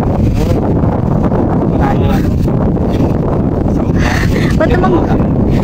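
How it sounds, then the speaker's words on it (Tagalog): Strong wind gusts buffet the microphone outdoors at a rural farmhouse at night, a constant loud rumble and rustle with voices talking faintly beneath it. "Ba't naman ganun kalakas yung hangin?"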